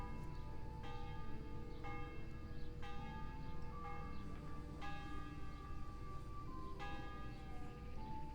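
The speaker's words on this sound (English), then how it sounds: "Who's ringing the bell?" Church bell ringing in a medieval village in Kingdom Come: Deliverance, with repeated resonant strikes roughly every second, each ringing out over steady background ambience.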